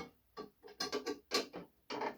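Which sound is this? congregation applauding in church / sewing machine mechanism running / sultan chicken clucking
sewing machine mechanism running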